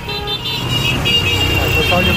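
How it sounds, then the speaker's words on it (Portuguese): Cars, buses and motorcycles pass along the Régis Bittencourt highway while drivers honk their horns in support of striking truckers, with horn blasts over a steady roar of nearby traffic. "aí passa os ônibus aqui, passa carro, passa a população, dando apoio, aí buzinando"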